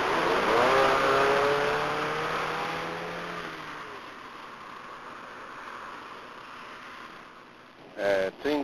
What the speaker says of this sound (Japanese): ツインカムの元気のいいエンジンのついてるファミリアの、ハッチバックのものをいつもの坂道へ持ってきました。